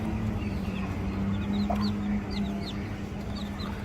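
Soft clucking from a hen with several high, rising peeps of one-day-old chicks scattered over a steady low background hum.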